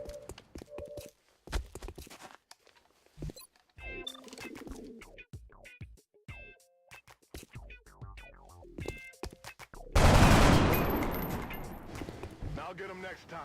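A soldier fires a weapon in the video game XCOM Enemy Unknown: a loud burst of gunfire erupts near the end after sparse clicks and short effect tones, while someone talks throughout.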